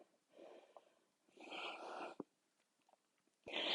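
Slow, soft breaths drawn in and out while holding a yoga pose in a gentle flow class, with a few faint clicks and rustles between them, quiet and close.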